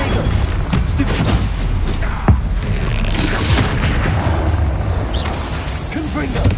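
Confringo and Bombarda blasting spells exploding in Hogwarts Legacy: loud, rumbling booms and blasts filling the whole stretch, with one sharper crack partway through.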